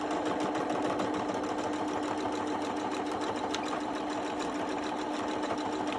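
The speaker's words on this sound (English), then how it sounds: "I'll sew it closed, avoiding again that metal bar." A sewing machine stitches a fabric squirrel closed, running continuously at close range with a fast, even mechanical clatter and steady whir, no voices over it.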